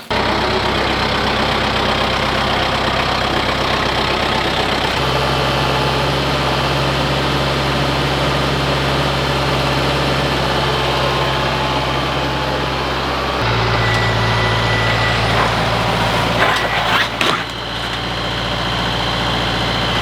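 Kubota tractor or utility vehicle engine running while hauling 2,000 pounds of corn, a loud, steady low diesel drone close by that shifts pitch and load a couple of times, with no talk over it.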